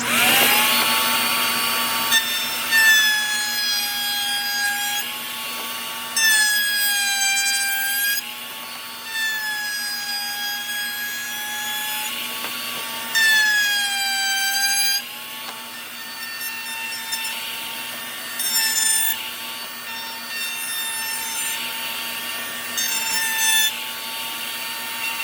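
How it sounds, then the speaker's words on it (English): A handheld router whines continuously, high-pitched, with pitch wavering as it cuts a chamfer along a wood edge, surging in repeated passes over about twenty-five seconds. "just added a nice little chamfered edge there"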